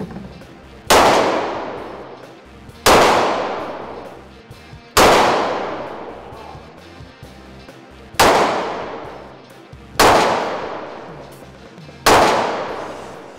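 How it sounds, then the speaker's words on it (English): Six sharp, loud shots from a small lightweight .38 Special revolver fired at a target, each crack followed by a ringing decay, spaced about two seconds apart with no talking. "A little 38 special, little revolver, nice and lightweight, small gun."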